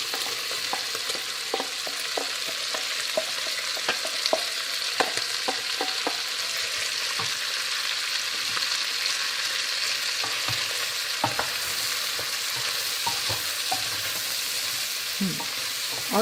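Prepared vegetables sizzle and fry in a pot as the base for split pea soup, a steady close crackle with scattered spoon scrapes and stirring clunks throughout, moderately quiet, no talking.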